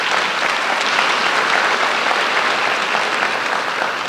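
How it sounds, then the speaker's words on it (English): A room full of audience members claps for introduced team members at a Les Brown talk, a dense, steady wash of applause holding at even loudness throughout with no voices over it. "give them a round of applause"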